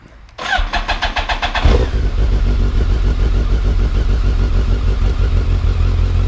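A 2007 BMW K1200S motorcycle engine cranks briefly with a fast starter whir, catches with a loud burst, then settles into a steady, close idle that carries on alone.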